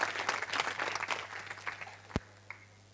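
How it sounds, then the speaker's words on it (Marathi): An audience at a public lecture series hall breaks into applause, a burst of clapping that fades over a couple of seconds, ending with a single sharp thump. "एकदा आपण त्यांच्यासाठी जोरदार टाळ्या देणार आहोत"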